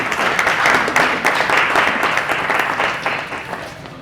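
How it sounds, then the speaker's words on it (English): An audience at a Hanukkah gathering gives a round of applause, dense and loud clapping that is sustained and fades slightly toward the end. "Let's give a round of applause."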